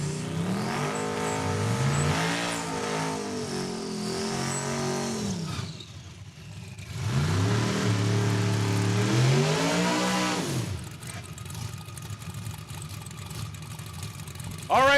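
Drag racing cars rev and roar at the start line of Saskatchewan International Raceway during a heads-up event, loud engine bursts rising and falling in two long waves with a quieter gap between, then a rumbling idle.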